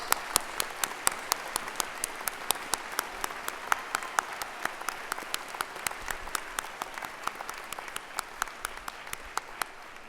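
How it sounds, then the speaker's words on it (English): Audience applause at a university degree ceremony after master's degrees are conferred, a steady sustained round of clapping from a large hall crowd with sharp individual claps standing out, no talking over it. "Could we have a round of applause, please?"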